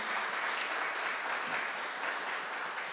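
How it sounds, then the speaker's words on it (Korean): Church congregation applauding to welcome visiting missionaries, a steady wash of many hands clapping, dense and even throughout with no talk over it. "다 같이 우리 환영의 박수 하도록 하겠습니다"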